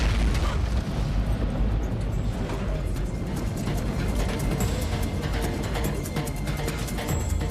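Dramatized boom from an aircraft engine at cruise climb: a dense, loud, sustained roaring blast filling the whole clip without letting up, with crackling texture and no voices.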